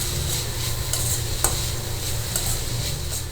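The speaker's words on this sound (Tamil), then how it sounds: "வெங்காயம் எல்லாம் நல்லா சேர்ந்து மிக்ஸ் ஆகிடுது" A spoon stirs cauliflower and onion paratha stuffing in a hot pan, scraping and clinking steadily over a continuous sizzle, close and clear.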